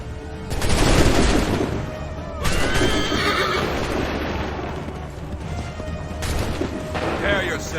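Musket fire crackles in bursts during a battle in the video game Assassin's Creed III, with horses whinnying loudly and hooves clattering, several volleys rising over busy battlefield noise.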